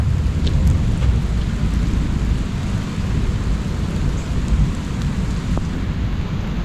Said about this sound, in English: All right, so we finally got some rain.